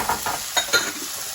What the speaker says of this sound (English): Even if we just saute it for a minute and get it a little toasty, we'll also add a little bit more flavor.